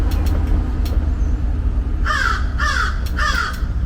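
Three loud crow caws ring out in an even rhythm during the second half, set against a constant low hum of traffic, with no one speaking.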